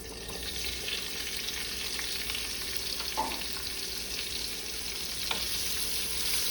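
Hot links fry in a pan with bacon and sausage, giving a continuous bright sizzle with occasional soft pops and utensil scrapes, steady and close with no talking.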